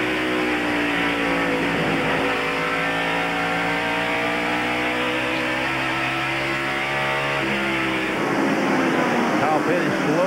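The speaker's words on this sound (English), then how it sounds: "Here comes Morgan Shepherd and Dale Earnhardt past Bill." Stock car engines roaring past continuously during the 1993 NASCAR Bud 500, a loud sustained multi-car drone with rising and falling engine pitch, with a race commentator's voice running over it throughout.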